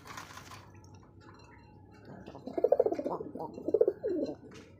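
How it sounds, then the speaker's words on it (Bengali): A big-sized male red pigeon coos nearby in a series of rhythmic, throaty pulses, two bursts of rolling calls following a quiet stretch with faint background noise. "আমি নরটা পাগলা ডাকটা একটু দেখাই ভাই"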